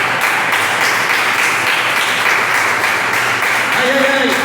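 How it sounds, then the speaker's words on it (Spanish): A church congregation gives loud, sustained applause, a dense wash of clapping heard close and continuous, with a voice rising briefly near the end. "denle ese fuerte aplauso al Señor"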